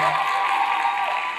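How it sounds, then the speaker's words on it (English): Audience applause at a university fashion show, a steady dense wash of clapping sustained loudly throughout without pause. "make sure y'all give them a big round of applause for this show they put on"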